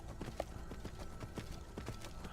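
Hooves of a horse in Skyrim clop in a steady, quick galloping rhythm, fairly faint and even throughout, with no talking over them.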